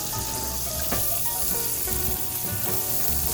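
Butter sizzles and crackles in a hot pan alongside pancetta, a dense steady frying hiss with a few scraping stirs, heard close without speech.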